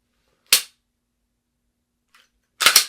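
Two sharp pistol shots fired at targets on a shooting range, the first a single crack and the second a quick double report about two seconds later, loud and close with silence between.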